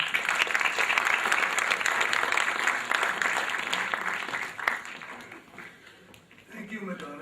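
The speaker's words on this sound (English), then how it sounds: "Let us give a warm applause for Mr." An audience claps warmly to welcome a speaker at an aviation event in Kuwait, sustained applause from a large room that thins out after about five seconds before a voice begins.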